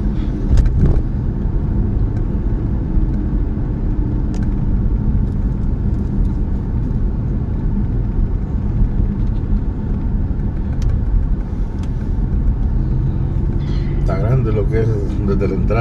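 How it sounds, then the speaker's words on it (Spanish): Heavy car traffic on a street in Chimaltenango, Guatemala: a loud, continuous engine rumble and road noise that never lets up, with voices talking over it. "que va a venir carro ahí, pero mucho carro"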